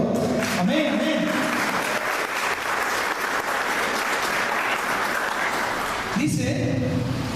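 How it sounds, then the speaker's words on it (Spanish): A church congregation applauds in praise during a sermon, with steady crowd clapping filling most of the stretch while a voice speaks briefly at the start and end. "Démosle un aplauso al Señor."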